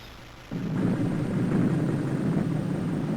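Nuclear explosion blast in a documentary: a sudden loud roaring onset after half a second of quiet, then a sustained rumbling wall of low noise that holds steady to the end.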